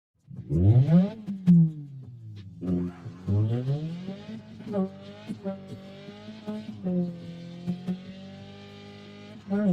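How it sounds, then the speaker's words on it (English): Drifting car in Drift Racing 3, an engine revving up and down in repeated sweeping pulls with tire squeal layered over it, loud and close throughout. "Heretic Drift Racing 3 is a solid drifting game that offers a lot of content and replayability."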